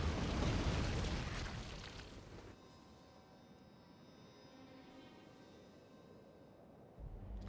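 Explosions during an attack in Factorio Space Age, a loud booming burst at the start that fades into a low, droning rumble with a faint pop near the end.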